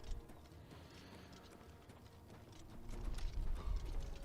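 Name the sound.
horse hooves in video game Oblivion Remastered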